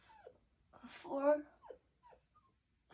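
A dog gives a short, faint whimper up close during a home workout, with a few soft vocal sounds around it and no clear talk.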